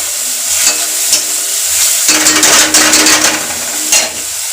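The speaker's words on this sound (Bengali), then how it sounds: "একটু নাড়িয়ে নিই।" Food fries in a pan while a spoon stirs it, a loud close crackling sizzle that swells with bursts of scraping and sputtering, no voices.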